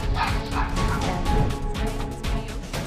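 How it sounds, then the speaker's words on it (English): Two dogs bark in loud, rapid, overlapping bursts at an intruding black bear inside a house, with yips and whimpers mixed in and a crash among the commotion, close and continuous throughout. "her two dogs barked and chased it out of the house"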